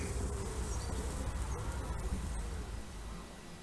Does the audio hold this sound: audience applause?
no